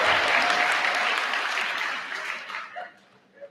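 At a college commencement ceremony, the audience breaks into dense, steady applause that slowly thins out and fades to scattered claps within a few seconds.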